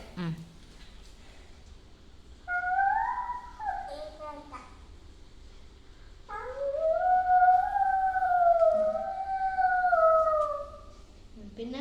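A person mimics a fox howl at home, two long wavering rising-and-falling howls, the second longer and louder, with brief spoken bits around them.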